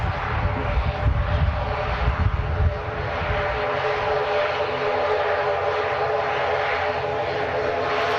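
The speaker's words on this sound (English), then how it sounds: "Lovely Loganair ATR coming in." Loganair ATR turboprop coming in to land, a loud steady propeller drone with low rumble that eases slightly after a few seconds, heard from a spotting position nearby.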